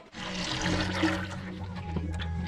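Used oil draining from a vehicle gearbox, a steady close liquid pour and trickle at low level, continuous for a couple of seconds.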